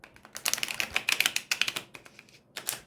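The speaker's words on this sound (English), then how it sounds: "Very easy to riffle shuffle." Tarot de Marseille cards riffle-shuffled by hand, giving quick clusters of sharp clicking flutters, close up, with a short final burst after a pause, no talking.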